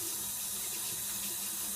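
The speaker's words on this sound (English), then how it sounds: "I put this in my sink, and the water needs to be warm." Warm water runs from a tap into a sink, a steady, close hiss and splash that carries on evenly with no one talking.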